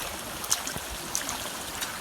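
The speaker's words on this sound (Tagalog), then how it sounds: "Pusog tubig, oh." A strong current of flowing water gives a steady, soft rushing hiss, with a few faint clicks and splashes, and no talk.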